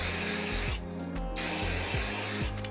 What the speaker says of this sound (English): I'm gonna spritz this with some of the hairspray that they sent me